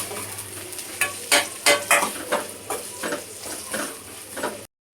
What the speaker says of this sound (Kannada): ಈರುಳ್ಳಿ ಶುಂಠಿ ಬೆಳ್ಳುಳ್ಳಿ ಪೇಸ್ಟ್ ಎಲ್ಲ ಹೊಂದ್ಕೊಂಡು ಈರುಳ್ಳಿ ಗೋಲ್ಡನ್ ಫ್ರೈ ಆಗಬೇಕು.